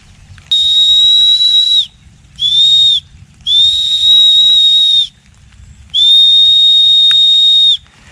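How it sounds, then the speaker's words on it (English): Four steady, high-pitched blasts of varying length from a whistle made from a tree limb, clear and close, with short pauses between them and no talking. "So there it is, a whistle made from a tree."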